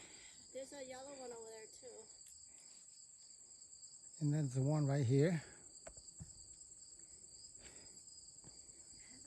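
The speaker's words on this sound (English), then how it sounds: "hear cricket, and the forest become alive" Crickets chirp in a forest along the Cole Mountain hiking loop trail, a steady high-pitched insect drone running throughout, with someone talking briefly over it.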